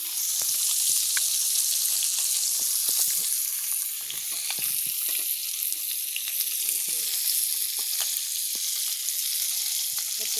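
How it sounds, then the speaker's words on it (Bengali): Fish frying in a home kitchen pan, a steady close sizzle with scattered pops and crackles throughout, no talking. "তারপরে মাছ আমার মা রান্না করছে।"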